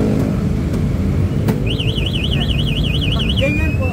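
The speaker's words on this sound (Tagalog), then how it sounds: "Mag-alarm po yan." An electric bike's anti-theft alarm sounds loud and close, a rapid warbling siren that wobbles up and down for about two seconds and then slides into a steady rising tone, over low background noise.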